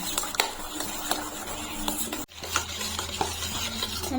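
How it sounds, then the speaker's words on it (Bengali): Eggs, oil and sugar are whisked together in a bowl for a chocolate cake batter. A utensil clinks and scrapes against the bowl in a quick repeating rhythm, close by, with a short break partway and no talking. "ডিম, তেল আর চিনি ভালো করে মিশিয়ে নিতে হবে।"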